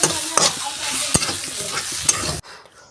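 Onions frying and being stirred in hot oil in a pan, a steady close sizzle broken by a few sharp scraping clicks of the spoon before it cuts off abruptly near the end.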